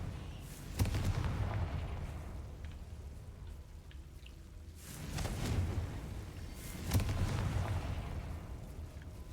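Confringo blasting spells going off in Hogwarts Legacy, three heavy bursts near 0.8, 5 and 7 seconds, each a loud booming crackle that lingers before fading, with no voice over them.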